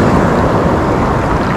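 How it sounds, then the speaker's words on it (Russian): Black Sea surf breaking on the shore at Lazarevskoye near Sochi, a close, loud continuous wash of churning water and foam with wind noise across the microphone. "вот хорошая волна."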